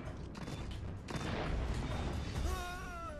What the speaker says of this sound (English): A grenade?